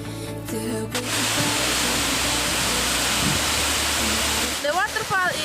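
Tamalulua waterfall in Jeneponto roars as a steady, loud broadband rush of falling water, with brief tonal sounds near the start and end.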